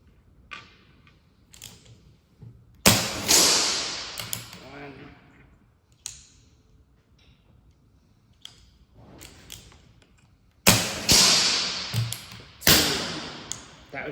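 A BSA R10 TH .22 air rifle firing on an outdoor range, several sharp cracks with thuds and mechanical clicks spaced apart, with quiet handling noises between the shots.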